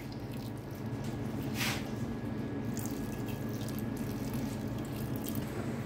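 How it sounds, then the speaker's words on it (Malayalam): Water poured into a pan of beans for a Thalassery-style payar thoran, a soft, quiet splashing and trickle with a brief stronger gush partway through, in a calm kitchen. "നമ്മൾ ഇതിൽ ശകലം വെള്ളം ചേർത്തിട്ട് വേവിപ്പിച്ച് എടുക്കുകയാണ്"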